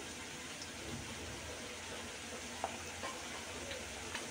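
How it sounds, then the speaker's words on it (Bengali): Fried onion with salt, turmeric and chili powder cooks in a pan for a cauliflower-stalk stir-fry, giving a faint continuous sizzle with a few soft stirring scrapes and no voices. "কিছুক্ষণ ভেজে নেব।"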